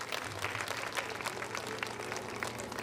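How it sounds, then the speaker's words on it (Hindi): Enthusiastic applause from an audience at a Bhagavat katha gathering welcoming a guest, dense clapping heard fairly distantly with a low musical drone under it. "इनके लिए जोरदार तालियां बजाकर स्वागत करें"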